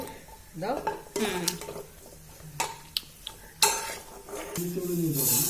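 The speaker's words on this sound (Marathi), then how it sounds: "एक पाकिट तेल तेलामध्ये भाजून घ्यायचे आहेत मस्त फुलतात ही हळकुंडे तेलामध्ये" Whole turmeric roots roast in hot oil for a homemade Kolhapuri onion-garlic masala, with pan clatter, metal scraping and a soft sizzle in a nearby kitchen while a voice talks at moments.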